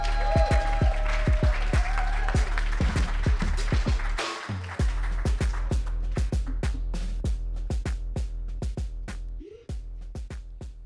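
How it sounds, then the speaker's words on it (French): A club audience applauds warmly to welcome a comedian to a stand-up stage, steady loud clapping filling the room throughout with a brief dip near the end. "applaudissements pour mon ami le plus buzzé"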